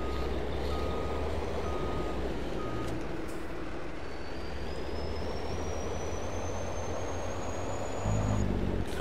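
An American-style lorry in Farming Simulator 22 sounds a few evenly spaced reversing beeps over a constant diesel engine rumble, and a rising whine creeps in as the beeping stops.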